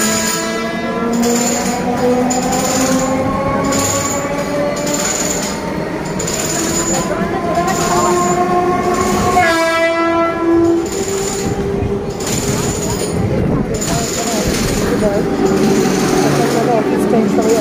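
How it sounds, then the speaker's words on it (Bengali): A commuter train pulls into a busy station on the Bhadreswar–Rishra line at office rush hour, its horn blaring in long sustained tones over loud rumbling wheels and clattering carriages, with a crowd murmuring around. "দেখো ট্রেন আসছে, আমরা ডাউনে যাব।"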